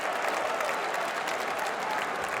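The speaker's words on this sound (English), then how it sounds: "Roar of applause from the home fans at the Stadium of Light" Home football fans at the Stadium of Light in Sunderland applaud during a Championship match against Burnley, a steady, dense roar of clapping and crowd noise that stays level and fills the whole stretch.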